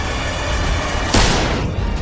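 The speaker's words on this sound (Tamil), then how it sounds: "துப்பாக்கி சத்தம் கேட்டு நட்சத்திரா மரண பயத்தில் உறைந்து விழித்தாள்" A single loud gunshot sound effect fired beside a bed in a Tamil audio drama, a sharp boom cutting through a steady background bed and then trailing off.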